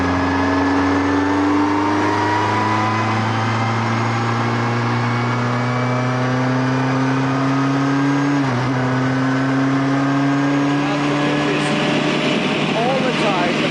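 Onboard sound of a 1959 Cooper Climax T51 racing car at Donington Park, a loud steady engine drone held at high revs, with a brief dip as it shifts, and someone talking over it.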